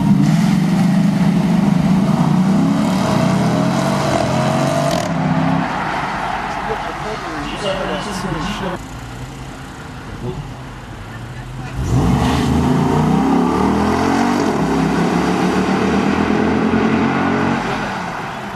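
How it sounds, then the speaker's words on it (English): 2008 Chrysler 300C SRT8 accelerating at full throttle: a loud, sustained engine roar that sweeps up through the gears, dips briefly, then surges again, with voices talking over it. "driving the 2008 Chrysler 300C SRT 8."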